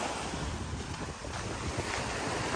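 Strong wind and breaking sea waves on a shore in Halkidiki, Greece, a steady broadband rush of surf and gusting wind noise buffeting the microphone with no talk.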